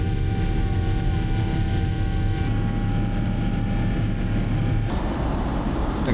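An airplane cabin during takeoff from Phuket, a loud steady engine roar and hum with constant tonal whine throughout.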